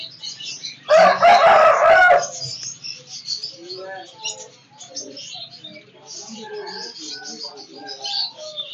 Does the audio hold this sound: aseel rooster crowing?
yes